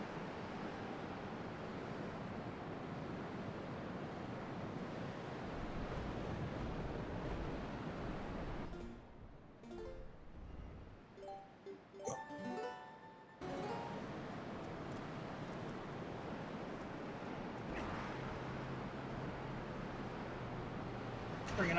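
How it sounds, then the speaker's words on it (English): Wind gusts high up in Zelda Twilight Princess, a broad steady roar that drops away briefly midway and then returns at full strength. No voices are heard. "It's fucking windy. Fucking windy up here."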